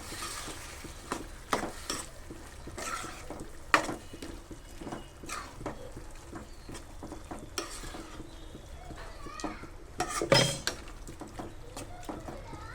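Spices are stirred through a masala in a cooking pan for a fish curry, with a steady soft scraping and faint sizzle and scattered clinks of spoon on metal, loudest about a third in and again near the end.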